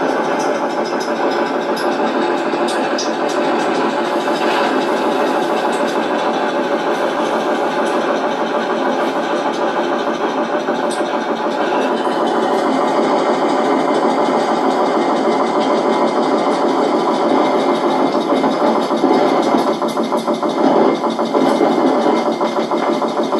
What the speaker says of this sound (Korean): 뭔가 기계 소리인데 뭔가 이게 컴프렉서 같은 이런 소리가 아닌가